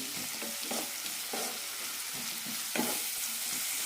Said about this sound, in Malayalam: നന്നായി വഴറ്റിയെടുക്കാം സവാള ഒരു കണ്ണാടി പരുവത്തിലേക്ക് എത്തണം